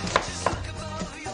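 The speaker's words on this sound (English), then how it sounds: "So when you're chopping everything, keeping everything kind of nice and fine and shredded." Two sharp knife strikes on a cutting board chopping salad vegetables, spaced apart, with a softer third tap later; close and fairly quiet against a low background hum.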